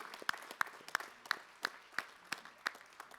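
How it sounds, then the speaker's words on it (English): A conference audience at a closing ceremony applauds the operations team, a faint, slow rhythmic clapping in unison, about ten evenly spaced claps heard at a distance. "One more huge round of applause, guys, for TK and the operations team"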